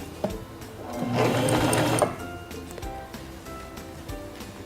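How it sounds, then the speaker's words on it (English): A Singer Talent 3323 sewing machine sewing a few forward stitches: a short, close mechanical whirring burst of about one second with rapid rhythmic needle clatter, surrounded by quiet clicks and handling. "Press the foot control and sew forward a few stitches."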